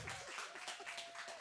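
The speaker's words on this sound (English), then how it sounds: "A round of applause." Brief burst of studio audience applause greeting an R&B pop soul singer on a talk show, dense even clapping filling the short moment.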